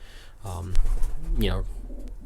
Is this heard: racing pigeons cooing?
yes